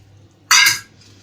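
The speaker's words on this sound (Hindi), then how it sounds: "अब इसको हम थोड़ा सा सॉफ्ट करने के लिए नीम गर्म पानी थोड़ा सा डाल रहे हैं इसमें" Lukewarm water is poured into thick chocolate cake batter in a short, bright splashing burst lasting about a third of a second, then fading quickly, with no talk.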